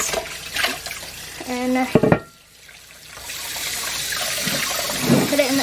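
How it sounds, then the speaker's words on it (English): Running water rinses a Dutch oven pan, a continuous splashing rush that briefly cuts out and then resumes, close by, with a short spoken word and some clatter near the start. "So we'll give it a good rinse"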